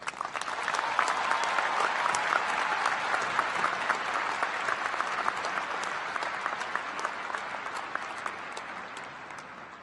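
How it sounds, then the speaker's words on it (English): A large audience claps steadily and loudly, the applause sustained throughout with a slight easing toward the end. "Please give a resounding applause to Professor Njabulo Ndebele."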